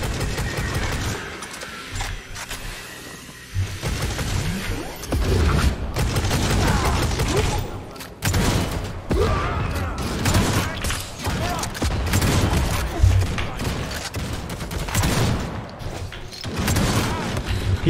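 Plasma rifle fire in the video game Necromunda: Hired Gun, dense and continuous bursts of energetic shots and booms filling the scene, loud and close, with a voice talking over parts of it.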